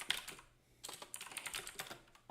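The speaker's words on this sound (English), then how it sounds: "I am typing a question" Fast bursts of typing on a computer keyboard, with irregular clusters of key clicks separated by a short pause, close and moderately quiet with no talk.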